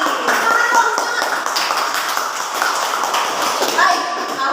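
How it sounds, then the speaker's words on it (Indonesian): A classroom of students claps hands together in applause, a steady dense patter of many hands close by, with voices faintly mixed in. "tepuk tangan untuk Andini"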